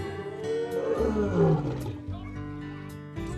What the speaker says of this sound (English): and a very noisy lion